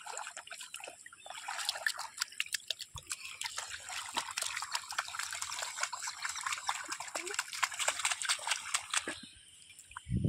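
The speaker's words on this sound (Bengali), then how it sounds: "এ জল ছিটবে তো" A young boy plays in mud with water, and the water splashes and trickles in a busy run of wet, irregular spatters close by. It thins out near the end, with no speech.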